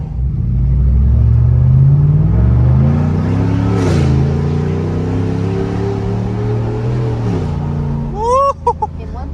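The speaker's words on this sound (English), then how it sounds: "That some guy was trying to spin the tires." A 6.2-liter Chevrolet Silverado pickup with a cat-back straight-pipe exhaust revs hard and spins its tires on the road, a loud, deep rising and falling engine roar ending in a brief honk-like squeal.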